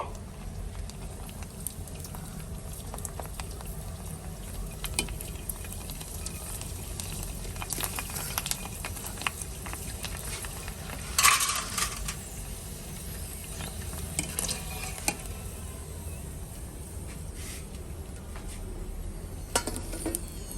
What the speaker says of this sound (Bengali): এখন আমি ফুচকাগুলো গরম তেলে ভেজে নিচ্ছি